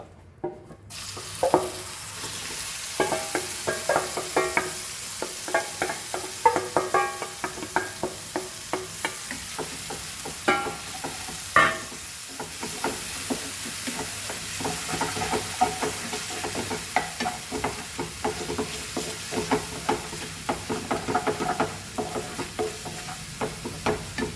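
Goan-style mutton gizzard frying and caramelizing in a pan, a continuous close sizzle with frequent clicks and scrapes of stirring throughout.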